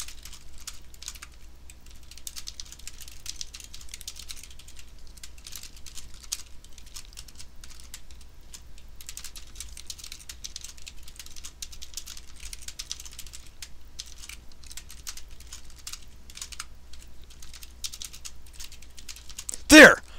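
Code is typed steadily on a computer keyboard, a dense run of light close clicks and key taps going on for the whole stretch, ending in one sharper louder knock.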